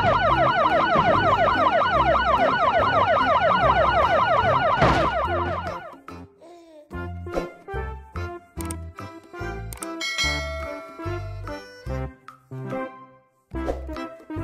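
A toy police car siren wails in a loud, rapid warble for about five seconds, then cuts off into scattered clicks, rattles and brief musical tones from other toy vehicles.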